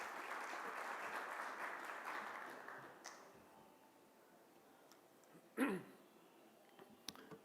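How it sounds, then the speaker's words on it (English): An audience at a summit opening applauds for a few seconds, the clapping fading out quickly, followed by a quiet room with a brief dog bark and a few small knocks. "Let's give him a big round of applause."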